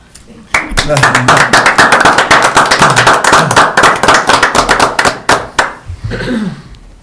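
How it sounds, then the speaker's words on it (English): A round of applause at a county board of commissioners meeting: sharp, dense clapping from a small group in a room, loud and close, gradually thinning out toward the end. "I think I'd like to give Kathy Ann a round of applause as well."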